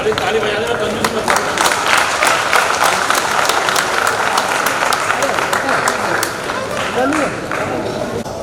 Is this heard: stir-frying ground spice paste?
no